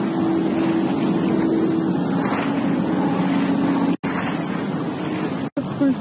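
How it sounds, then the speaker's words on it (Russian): A seaplane moves across the open water off Stanley Park in Vancouver, its steady engine drone and rushing water noise loud and continuous under wind, with two very brief dropouts near the end. "Летит, похоже, самолет на водных лыжах"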